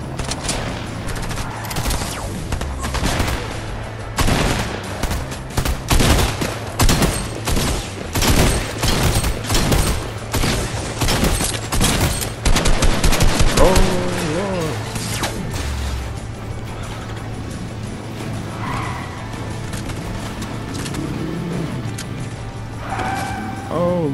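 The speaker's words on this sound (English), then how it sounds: "He getting shot from every angle." Gunfire in a Fortnite solo-squads match comes in heavy, overlapping volleys of sharp cracks from several directions, with dense bursts in the middle, scattered shots around them and a constant low hum underneath.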